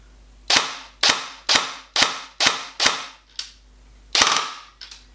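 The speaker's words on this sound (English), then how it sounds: "Nice rate of fire there, about 20 to 21 rounds a second, and super responsive" A Classic Army Nemesis Gen2 LS12 airsoft rifle fires about eight sharp, snappy reports, spaced roughly half a second apart with a short gap near the end, close and clear with no talk.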